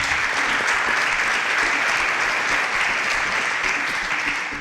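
A studio audience applauds the contestants of the Interswitch SPAK 2.0 quiz show in Nigeria, a dense, steady wash of clapping holding at full strength from start to finish.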